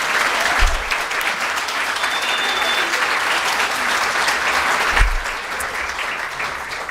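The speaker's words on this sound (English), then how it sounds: "Can we get a round of applause for all the volunteers?" Sustained applause from a gala audience honoring the volunteers, a steady dense wash of clapping running the full length at even loudness, with no voices standing out.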